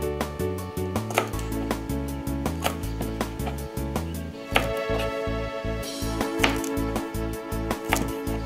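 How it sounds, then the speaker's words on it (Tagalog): A knife chops balatong (mung bean pods) on a board for sinigang, a quick, regular series of sharp taps running under loud background music, with no speech. "So ating hihiwain ang ating balatong."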